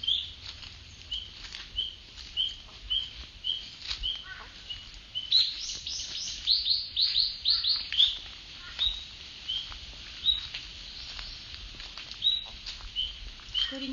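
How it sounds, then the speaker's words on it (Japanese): Birds sing and chirp in an Okinawan sacred grove, with short high calls repeating throughout and a brief burst of rapid trills midway, moderately near over a soft constant background hiss. "鳥の声と光と"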